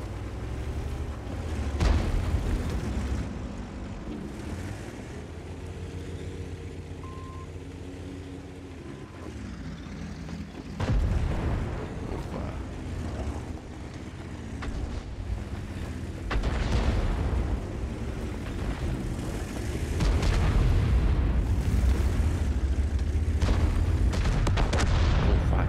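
Artillery fire and explosions in World of Tanks: dense, continuous low booming battle noise with repeated heavy blasts and rumbling impacts throughout, no talking.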